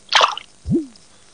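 A voice imitates cartoon sound effects, first a wet splashy burst and then a single quick swooping plop, each short and close with a pause between them.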